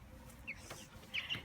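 Backyard hens clucking softly at a distance, with a few short, quiet clucks and chirps over faint background noise.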